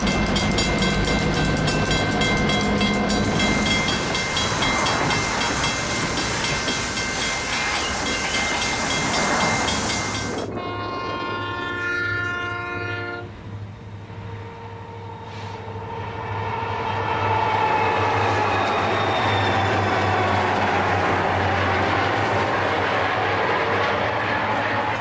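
A Santa Fe local freight train departs Richmond for Oakland, with a heavy diesel rumble and rail noise filling the scene, a horn-like tonal blast partway through, then a lower steady engine drone continuing.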